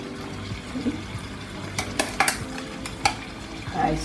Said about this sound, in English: I'm gonna sort out my ackee because my season is bubbly